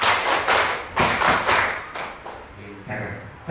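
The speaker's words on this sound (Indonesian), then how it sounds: "Tepuk 1, tepuk 2, tepuk 3" A class of schoolchildren claps in counted bursts, with loud, close groups of claps and thumps separated by short pauses while voices chant along.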